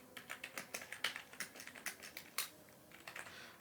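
A computer keyboard is typed on at an even pace, the quick individual keystrokes clicking close and quiet with no voices over them.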